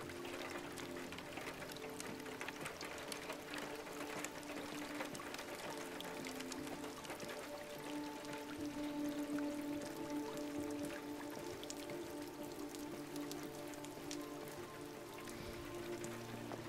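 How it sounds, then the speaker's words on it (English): Steady rain falls in Detroit: Become Human, a constant soft patter and drip at low level that carries on without a break for the whole stretch. "Does it ever stop raining in this game?"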